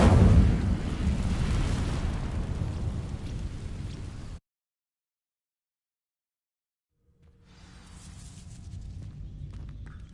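Incendio fire spell from Hogwarts Legacy setting dry vines ablaze, a loud roaring burst of flame and crackle that cuts to silence, then a quieter burning rumble returns.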